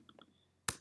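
A single sharp mouse click during a screencast tutorial, close and dry, following a few faint soft ticks and a quiet tone.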